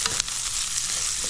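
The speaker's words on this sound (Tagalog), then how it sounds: "At gisa natin ito kamatis." Tomatoes sautéing in a pan: a steady, close frying hiss fills the whole moment, with a couple of light stirring scrapes near the start and no voices.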